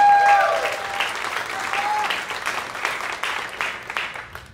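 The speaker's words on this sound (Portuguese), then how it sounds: "Dá uma salva de palmas aí, bonita." Warm audience applause at a coaching talk, a dense burst of many hands clapping that swells at the start and then slowly thins and fades, with a voice briefly heard at the opening.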